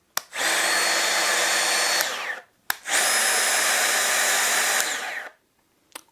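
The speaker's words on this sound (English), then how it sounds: "one thing I instantly noticed when I just tried powering up with the 2 different batteries" A Bosch GKF 12V cordless palm router motor whirs up to a steady high-pitched run, stops, then spins up again for a second longer run before winding down.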